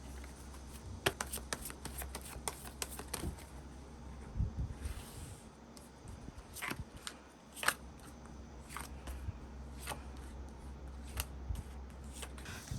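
Tarot cards being drawn and handled for a relationship reading: soft repeated crisp snaps and shuffling rustles, close and quiet, scattered irregularly over a low steady hum with no talking.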